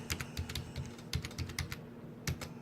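Rapid keystrokes on a computer keyboard as an IP address is typed into a browser, irregular clusters of crisp close clicks with short pauses, no voices.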